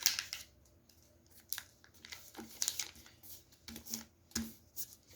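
Paper being pressed and folded by hand while making a folded sunflower spinning top, with soft crinkles and sharp creasing rustles in irregular bursts, close and fairly quiet, no talking.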